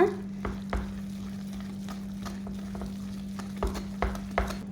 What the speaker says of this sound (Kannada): ಈಗ ಇದನ್ನು ಚೆನ್ನಾಗಿ ಮಿಕ್ಸ್ ಮಾಡ್ಕೊಳ್ಳೋಣ.